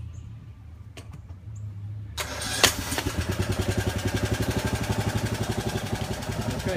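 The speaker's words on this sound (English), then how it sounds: "So we'll crank this machine and see if we can jack this wall up." A foundation-jacking machine for lifting a settling wall gives a few clicks, then its engine cranks and catches, settling into a loud, rapid, evenly pulsing chug close by.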